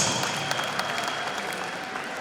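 Applause from the crowd at the official opening ceremony of a men's and women's Zone VI volleyball championship in Limpopo, a moderate, fairly distant wash of clapping with scattered sharper claps.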